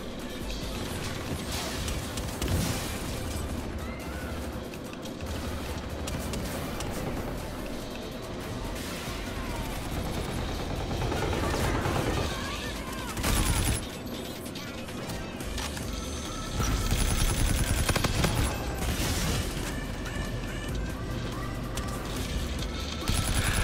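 Gunfire in Call of Duty: Infinite Warfare, with loud, dense bursts of shots, crashes and impacts that roll on almost continuously through the multiplayer match.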